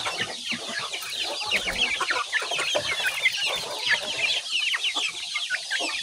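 Many chickens on a poultry farm clucking together close by, one of them sick, a busy overlapping chorus of short, sharp calls that continues steadily without pause.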